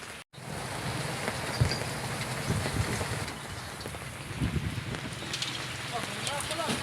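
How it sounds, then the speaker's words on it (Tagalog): Heavy rain comes down as a dense, steady roaring hiss with gusty wind buffeting the microphone, with faint voices underneath. "lumakas na naman ang ulan"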